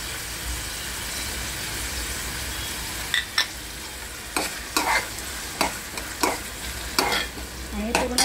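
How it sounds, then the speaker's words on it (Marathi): Red masala with curry leaves and tomato fries in a pan for a stuffed eggplant dish, a steady sizzling hiss broken by several sharp scraping strokes of a spoon stirring near the end, with no talking. "हे बघा, आपला मसाला पूर्ण भाजत आलेला आहे।"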